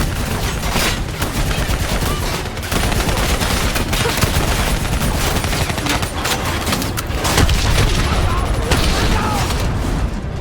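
Heavy, sustained gunfire from a Call of Duty Black Ops 3 battle, dense automatic bursts and booms hammering without pause against an armored vehicle and a VTOL, with shouted voices under the loud din.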